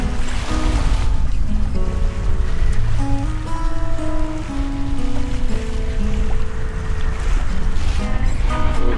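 A sailboat cruises the open Atlantic off the Portuguese coast near Peniche, with loud, continuous wind and water rush against the hull and shifting tonal hums throughout, with no voices.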